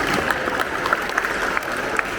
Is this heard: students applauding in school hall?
yes